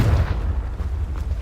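Hogwarts Legacy's Confringo explosive spell lands as a loud, close blast, a deep rumbling boom that holds for its full short length without fading.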